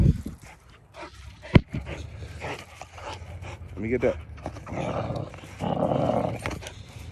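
A female pitbull close by lets out low growls and whimpers along with some yips, irregular and loud in bursts, while someone talks over her outdoors.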